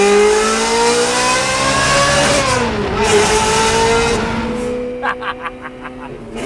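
A Ferrari 360 engine revs hard inside a tunnel, a loud echoing wail that climbs and drops through gear changes, then falls into a burst of sharp crackling pops on the overrun.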